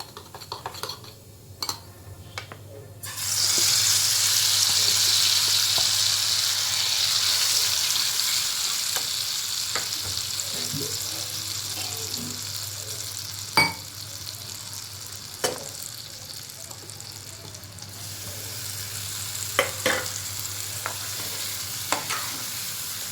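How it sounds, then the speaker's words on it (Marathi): A besan and gram flour mixture with green chilli, garlic and coriander cooks in a pan and is stirred until thick. A loud, steady sizzle sets in after a few seconds, broken by scattered spoon taps and scrapes, and no one speaks. "घट्ट होईपर्यंत हलवूया"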